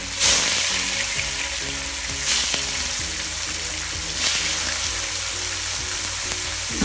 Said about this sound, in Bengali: বাকি মাছ শুকনো এইভাবে ভেজে ফেলবো।